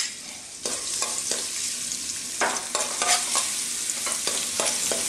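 Garlic sizzles in hot cooking oil in a pan for a Filipino beef and cabbage sauté, a steady frying hiss with occasional louder crackles and stirring scrapes, close up and without talk.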